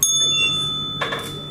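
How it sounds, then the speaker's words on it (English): A debate timer bell strikes once, a clear bright ding that rings on and fades, alone in a quiet room. "The bell will ring once again."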